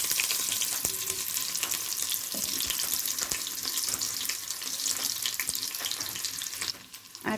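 Onions frying in hot oil in a kadai, a loud, dense, continuous sizzle with a few stirring clinks, close up and without voices.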